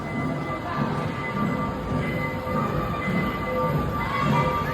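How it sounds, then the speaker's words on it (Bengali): A train passes nearby along a UK shopping street, making a steady, continuous rumble and hum of rolling wagons. Background noise lies under it and nobody talks. "এই যে ট্রেন যাচ্ছে।"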